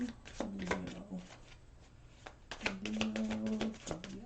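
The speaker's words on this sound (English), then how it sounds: "One more little shuffle here." Tarot cards are shuffled by hand in two quick bursts of crisp riffling and flapping, separated by a short pause, close and clear.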